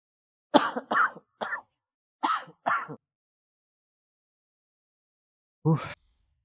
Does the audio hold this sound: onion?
no